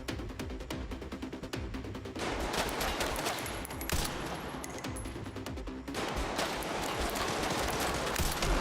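Gunfire in Resident Evil 9: loud rapid bursts of shots, dense and continuous, in two sustained volleys with a brief shift between them and no pause in the firing.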